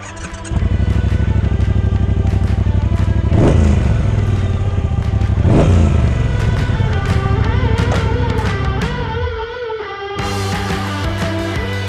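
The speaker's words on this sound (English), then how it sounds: "Let's hop back on the bike, on the baby, and go for a spin." A motorcycle starts up and rides off on a scenic country road in the Ardeche region of France, with loud close engine roar, rising and falling revs through gear changes, then a lower steady drone.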